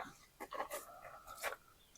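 A dog whimpers and pants in short, uneven bursts close by, with thin high whines rising over a faint background.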